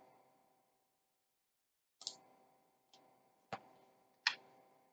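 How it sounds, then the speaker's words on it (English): Single sharp keyboard key presses in a quiet room, four distinct clicks spaced about a second apart after a brief stretch of near silence, with faint voice residue at the start. "I'm going to delete this default cube by pressing delete key on our keyboard."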